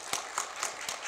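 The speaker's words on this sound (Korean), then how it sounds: "여러분 박수 부탁드리고요" Audience applause at a Korean drama production press event, a steady patter of many hands clapping with a few louder bursts, fairly distant and alone without voices.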